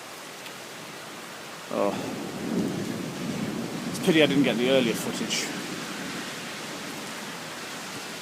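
A late-night thunderstorm in Riga brings a steady hiss of rain with low, rolling thunder swelling beneath it. Someone speaks briefly over the storm.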